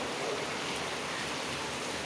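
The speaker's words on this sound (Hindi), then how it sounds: "हाँ इतनी तेज़ बरसात हो रही है भाई, राहत मिल गई गर्मी से।" A steady, even roar of heavy monsoon rain pours down without a break, forming a close, uniform wash of water noise with no voices.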